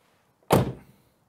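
A single car door on a V8-swapped Ford Focus shuts with one solid, close thunk and a short fading rattle, otherwise quiet.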